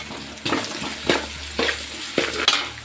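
Grated raw mango frying in a pan for chitranna, a soft steady sizzle broken by several rhythmic stirring scrapes, close and clear, with no talking.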